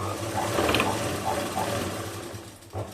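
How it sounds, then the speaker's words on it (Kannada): A sewing machine stitching falls onto the edge of a saree, its rapid mechanical whirring running steadily with slight speed changes, while someone speaks over it. "ಈ ರೀತಿ ಸೀರೆಗೆ ಹಿಂಗೆ ಉದ್ದ ಹೊಲಿಗೆನ ಹಾಕೋಬೇಕು"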